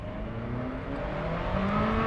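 Ferrari F40 under hard acceleration, a loud, continuous engine note rising steadily in pitch as the revs climb, heard from inside the car with no talking.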